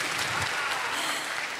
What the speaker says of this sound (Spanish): un fuerte aplauso para el vestido de Tamara